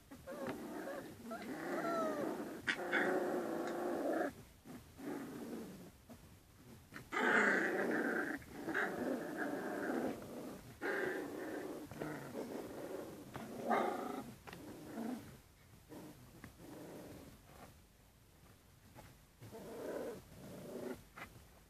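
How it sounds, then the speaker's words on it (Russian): A dog growls indoors at home in a long series of low, rumbling bursts separated by short pauses. It is close but quiet, and no one speaks. "Так же рычала Дуняшка, когда маленькая была."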